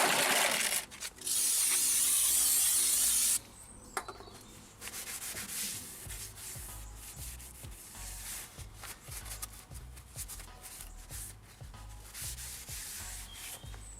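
Brake cleaner hisses from a spray can in a loud continuous burst onto a Ford Mondeo rear brake caliper, followed by quieter rhythmic rubbing and wiping strokes close by.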